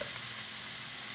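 Ground veal, ground pork and bacon lardons fry in a pan for a ragù alla Bolognese, giving a steady, close, even sizzle that fills the whole moment without any talk.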